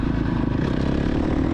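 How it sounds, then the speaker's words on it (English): An off-road motorcycle engine runs at high revs with the throttle held wide open in third gear, a steady, loud, buzzing drone close by without a break. "you could hear me as soon as I got up to started revving higher, I let off"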